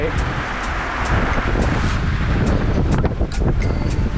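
Strong gusting wind and heavy rain roar continuously, buffeting the microphone, with faint voices underneath.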